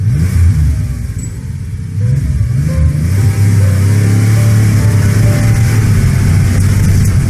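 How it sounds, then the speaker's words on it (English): Loud car engine sound effect revving through gear shifts, a steady droning roar that briefly dips in pitch and volume before climbing again, close and continuous. "yeah, the gear sound already has been shifted up. Another gear shift up, another shift up"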